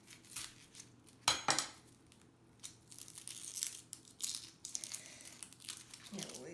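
An onion is chopped small with a knife on a board, producing quick, irregular close taps and crisp crunching cuts, with a faint voice in the background.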